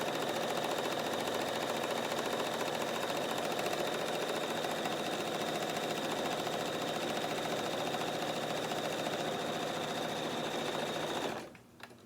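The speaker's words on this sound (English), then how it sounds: "So we'll go ahead and sew this lining." A sewing machine runs steadily as it stitches the lining of a tote bag, a continuous close motor whir with a fast needle rhythm that cuts off abruptly near the end.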